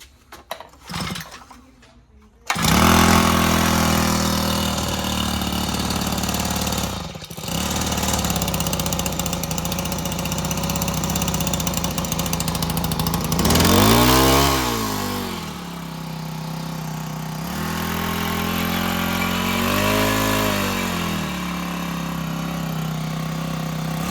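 A shipped outboard boat motor idles steadily at close range after a brief start, with its throttle twisted into two short revs in the middle and an even idle returning between them.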